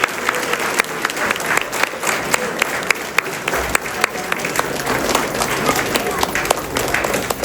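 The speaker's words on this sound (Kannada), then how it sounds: "ನಮ್ಮದು ಜೋರಾಗಿ ಚಪ್ಪಾಳೆ ಬಂದ್ರೆ" Loud, sustained applause from an audience at a community Satyanarayana Pooja gathering in Dubai, dense clapping with crowd noise filling the whole stretch at steady strength.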